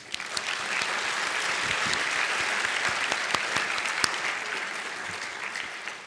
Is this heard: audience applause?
yes